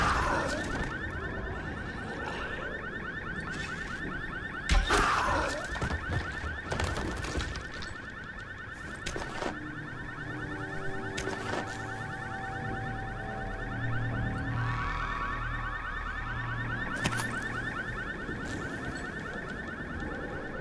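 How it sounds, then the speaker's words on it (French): Car alarm blaring in the Dying Light video game, a steady piercing electronic tone that persists throughout, mixed with game clatter, thuds and action noise. "je vois que c'est pas ici l'alarme"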